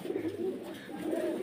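Pigeons coo steadily at a pigeon farm where teddy pigeons are sold, several birds overlapping in a continuous, moderately close murmur of soft rolling calls with no talk.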